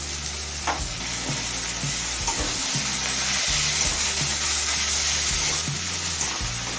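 Ginger and garlic paste fries with softened tomatoes in a pan for a dhaba-style egg chicken tarka, a steady dense sizzle with a spoon scraping and stirring through it, no voices.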